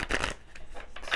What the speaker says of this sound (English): Could use a shuffle real quick.